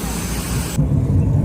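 Inside a passenger airplane during takeoff, a loud, steady engine roar fills the cabin and deepens into a heavier low rumble partway through.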